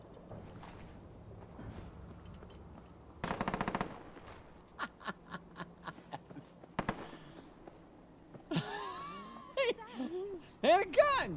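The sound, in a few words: gunfire in Helldivers video game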